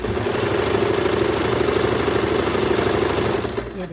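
A sewing machine stitches together pieces of leftover cloth. Its motor gives a steady, close whirring hum for about three and a half seconds before it winds down and stops.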